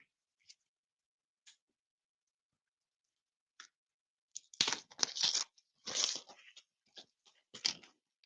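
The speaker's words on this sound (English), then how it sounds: "I'm going to take out the plastic wrapping." Plastic wrapping torn off a comic book: a few faint ticks, then a burst of loud, close crinkling and ripping in ragged clusters, trailing off into scattered rustles.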